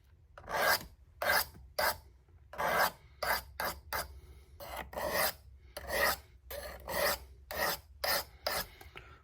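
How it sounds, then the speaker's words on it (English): A knife with a non-factory bevel being reprofiled on a coarse sharpening stone, rhythmic rasping strokes repeating steadily, close and fairly loud, with no talking. "So technically this is considered reprofiling this knife, because this is not the factory bevel."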